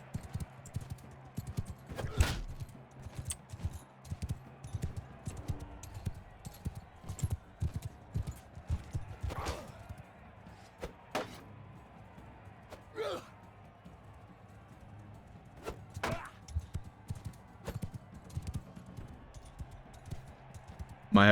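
Horse hooves pound in a rapid, steady rhythm while riding on horseback in the video game Bannerlord, a continuous clattering mid-level patter with occasional sharper impacts and game effects layered over it.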